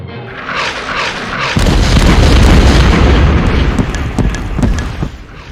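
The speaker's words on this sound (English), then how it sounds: "The shells swept across the night sky with a piercing sound, as the Syrians finally opened fire" Artillery shells fire in an animated war scene at night, a heavy booming blast that swells into a long rumbling roar, with further thuds fading out, loud and close.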